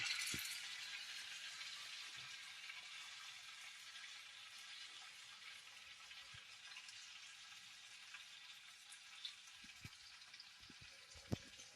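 Potato vadas for a fasting recipe drop into hot oil and fry with a loud, continuous bubbling sizzle that eases slightly over time. A few faint clicks from a utensil punctuate it.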